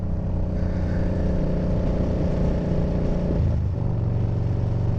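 A car's loud aftermarket exhaust drones steadily nearby, its tone rising and shifting as it revs, with a motorcycle's engine running close alongside.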